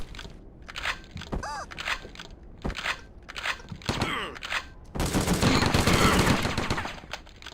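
AK rifle fire in the War Brokers game: several short sharp shots spaced apart, then a sustained loud burst of automatic fire lasting a couple of seconds, with faint game sounds between.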